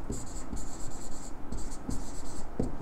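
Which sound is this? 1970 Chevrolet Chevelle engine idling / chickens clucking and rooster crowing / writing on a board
writing on a board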